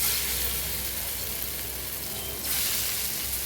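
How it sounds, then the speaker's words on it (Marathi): Spinach vadi shallow frying in hot oil, a steady soft sizzle and crackle that stays continuous and close throughout, with a slight brightening near the end and no voices. "शेलो फ्राय करायचं आपण मासे जसं फ्राय करू तसं हा पण फ्राय करायचं"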